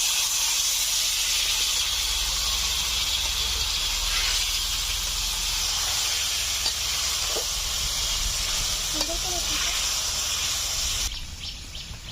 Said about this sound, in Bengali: দেখুন ঝোল ফুটতে শুরু করে দিয়েছে।